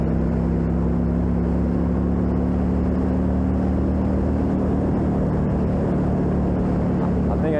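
A Honda Rebel motorcycle engine pulls steadily and loud while riding on the road, its low drone holding constant with broad wind rush throughout.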